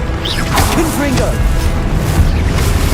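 Confringo blasting spell explosion in the Hogwarts Legacy video game: whooshing bursts and crashing booms pile up in a dense, loud battle mix with steady game noise and no let-up across the whole stretch.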